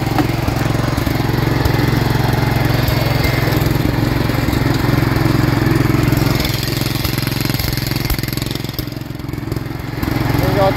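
A Simplicity riding lawn mower engine runs close and loud, a rough steady drone broken by irregular pops and sputters, easing slightly in the later seconds.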